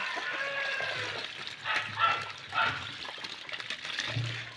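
Freshly caught fish released into a small pond in Kerala splash and thrash in the water, two louder bursts of sloshing among softer trickling, close by.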